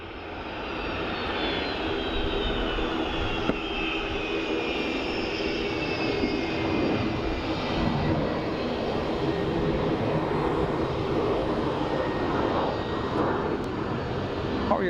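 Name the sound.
United Airlines Boeing 757 jet aircraft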